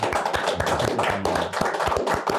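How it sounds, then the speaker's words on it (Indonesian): Applause from a group, a steady patter of many hands clapping at close range for a couple of seconds. "sekali lagi tepuk tangan buat Bapak Jenderal"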